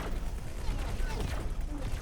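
Ship weapons firing in X4 Foundations, a space combat game: a loud, sustained barrage of crackling shots and blasts layered into a thick, steady wall of gunfire with no talk.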